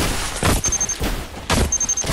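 A chili grenade explodes in Fortnite, giving a string of loud, rapid popping blasts in two clusters with a thin high whistle over them.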